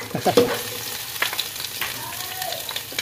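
Ginger and garlic sizzle in hot vegetable oil, a close steady crackling fry with a few sharper pops and stirring scrapes early on.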